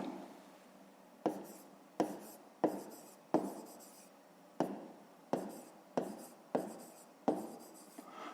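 Pen or chalk strokes writing out a fifth-grade math word problem solution in hryvnias, with about nine sharp taps and scratches repeating at a steady pace, close and fairly quiet, no talking.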